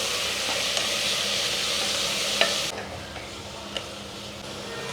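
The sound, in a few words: fenugreek greens frying in oil with onions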